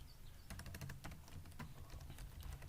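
Fingers tap out a quick, irregular run of keystrokes on a computer keyboard, close and crisp, with short pauses between bursts and no talking.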